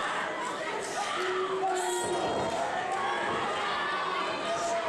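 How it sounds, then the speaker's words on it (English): A wrestling crowd cheering for Austin Aries at an International Wrestling Federation show, a steady roar of voices and whoops filling the arena from start to finish. "the crowd reaction was so strong for Austin Aries"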